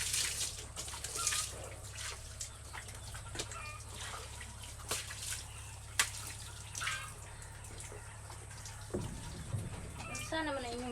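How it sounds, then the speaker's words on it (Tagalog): Water runs steadily in an open canal at a rural farm, a continuous trickling wash heard throughout with small splashes, while people talk over it and a bird calls nearby. "Nindot na kay agas sa kanal."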